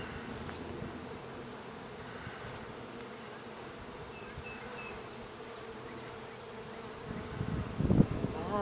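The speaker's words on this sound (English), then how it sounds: "it's pretty loud when you're in it" Swarm of bees pollinating a flowering tree, a dense, steady outdoor hum of many insects buzzing close around, continuous throughout with a brief louder rustle near the end.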